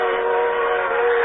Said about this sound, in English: A train. There's a train coming.